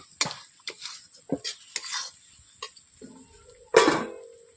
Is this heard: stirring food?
yes